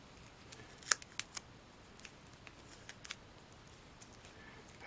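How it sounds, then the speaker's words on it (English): Scissors snip through a piece of tape during a switch repair, giving a few quick, close, fairly faint cuts clustered near the start and a couple of softer snips after, over a quiet background. "cut off another piece of tape."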